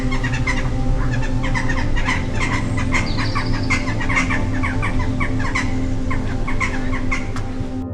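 Many birds at Dunfermline Abbey in Scotland chirp and cluck in quick, overlapping bursts over a steady low hum, a busy, continuous chorus with no voices.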